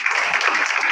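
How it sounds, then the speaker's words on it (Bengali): A gathering at a DXN office claps for its leader, a brief, dense rush of applause that lasts under a second with no talk. "লিডারের জন্য আরেকবার করতালি হবে।"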